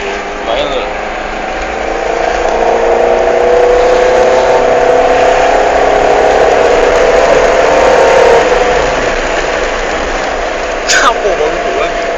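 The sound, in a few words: car engine revving during a handbrake spin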